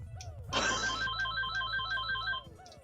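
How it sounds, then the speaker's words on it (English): Telephone ringing sound effect inside the Super Mario 64 Shining Stars game, a repeating electronic ring of bright chirping tones that pulses steadily for about two seconds over a low game background hum. "Nice telephone sound effect."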